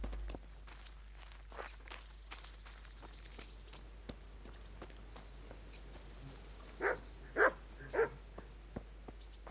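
In the medieval video game Kingdom Come: Deliverance, footsteps tread quietly before a dog lets out three sharp, fairly loud barks in quick succession near the end.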